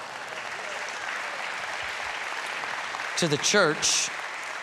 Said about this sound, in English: Thank you for clapping right there.